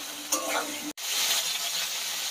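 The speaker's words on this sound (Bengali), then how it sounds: "যতক্ষণ পটলগুলো ভাজা হচ্ছে ততক্ষণ আমি মশলাটা করে নিচ্ছি।" Pointed gourd pieces salted and sprinkled with turmeric sizzle in a pan of hot oil, a soft continuous crackle briefly broken by a cut, with a stir or clatter early on and no talking.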